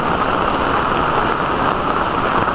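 Heavy rain pouring down during flooding of the Marikina River, a loud, unbroken roar, close and constant throughout with no voices.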